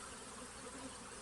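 Honey bees buzzing steadily at a Flow Hive during a queen introduction, a soft continuous drone filling the brief moment with no voices.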